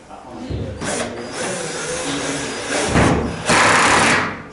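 A screw gun's clutch slips and ratchets while it drives a screw into hard Placo plasterboard. The loud, close mechanical whirring and clicking comes in bursts and grows stronger toward the end.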